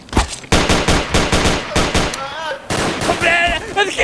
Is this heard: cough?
no